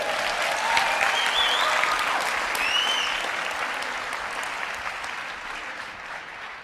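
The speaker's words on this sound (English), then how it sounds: "Give Albert a big round of applause" Sustained audience applause at a motivational talk, a dense wash of clapping that stays loud throughout and tapers slightly toward the end.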